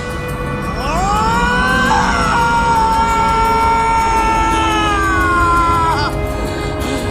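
A man's prolonged, wailing scream from the character Frank in the video game Dead Rising, one sustained loud cry with sliding pitch over steady game background noise, fading at the end.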